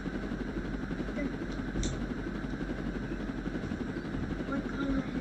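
Steady rotor-like drone of a video game helicopter hums throughout at moderate level, with faint talk mixed in underneath.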